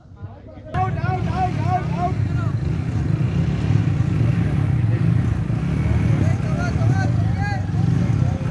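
Motorcycles idling and creeping along at the start of a slow bike race, their engines rumbling steadily near the listener under a lively crowd and someone talking.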